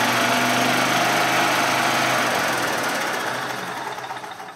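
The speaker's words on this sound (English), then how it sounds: "The cart runs, starts runs and really good too." The gas engine of a 2008 Club Car DS golf cart, recently repaired for a blown crankcase gasket, runs with a fast, rattling, close chug that fades and slows toward the end, with no one talking.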